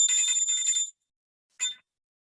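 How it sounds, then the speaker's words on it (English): A small hand bell for a classroom rings once in a bright, metallic burst lasting under a second, then gives a second short, quieter ring after a pause. "the students will want to ring the bell"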